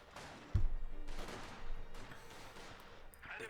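Gunfire from Company of Heroes 2 infantry, with Grenadiers firing in a battle: a sharp close report opens a crackling fusillade of scattered rifle and machine-gun shots that rolls on at moderate loudness.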